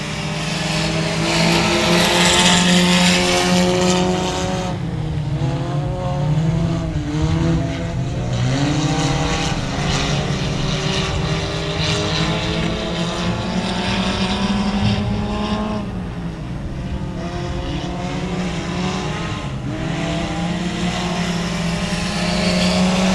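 Race cars roar around the 281 Speedway oval during a short-track race, several engines layering into a loud, continuous drone that swells and dips as the pack passes and dives into a turn.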